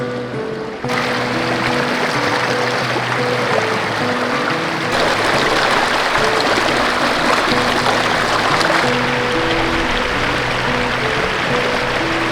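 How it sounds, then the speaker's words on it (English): A babbling brook along an offroad mountain trail at night, with water rushing and gurgling in a steady, loud, close wash that runs without pause and without voices. "enjoy this night by this babbling"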